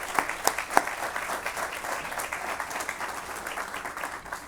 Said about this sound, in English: another round of applause for everyone for making this happen